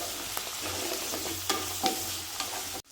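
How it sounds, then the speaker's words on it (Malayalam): Small onions sautéing in a pan for an onion pickle, with a steady sizzle and a few light scrapes of stirring, close and unaccompanied by talk. "ചേർത്ത് നന്നായിട്ട് ഇതൊന്ന് വഴറ്റിയെടുക്കണം"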